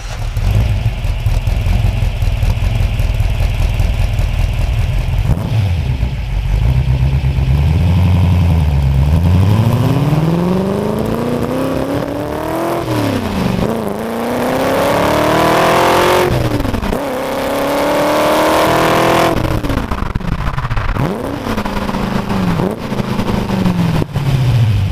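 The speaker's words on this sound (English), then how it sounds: "So you get this real kind of classic vintage, you know, clack sound when you get on the throttle." A 1966 Ford GT40 V8 with Weber carburetors revs loudly and close, rising and falling through repeated throttle blips over a deep, rough idle.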